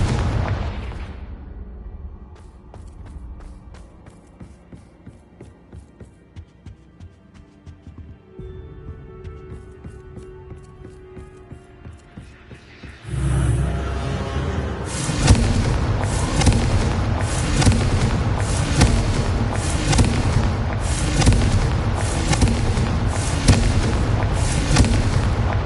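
Blasting spell explosions in Hogwarts Legacy, a quiet stretch giving way to a loud boom, then a rapid barrage of repeated blasts and crackling bursts that continues steadily to the end.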